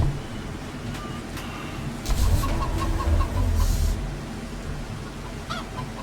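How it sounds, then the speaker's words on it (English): Chickens clucking in the farming game Farming Simulator 25, scattered short clucks over a steady outdoor wind-like rush and low engine rumble, no talk. "If I can dodge these chickens, that is."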